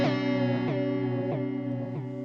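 A guitar runs through a Chase Bliss Audio Spectre through-zero flanger pedal, sustained distorted chords sweeping in a shifting jet-like flange, with a fresh strum roughly every two-thirds of a second.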